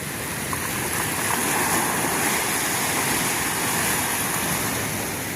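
A river rushes along in a steady, loud, broadband torrent of flowing water, constant and close, with no voices over it.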